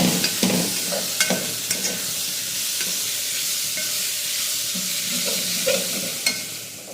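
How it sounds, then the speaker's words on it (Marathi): Spiced masale bhaat rice with beans stirred in a pan, repeated spoon scrapes and knocks over a soft steady sizzle, close and clear. "आणि हे हलवायचं."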